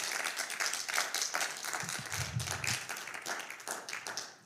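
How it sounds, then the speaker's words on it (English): Audience applause in a small theatre, a soft, fairly distant patter of clapping that holds steady for a few seconds, with a brief low rumble partway through and no speech. "Round of applause for Dr. David Edney."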